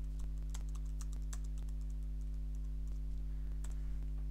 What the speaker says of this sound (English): You can either type your message directly into this window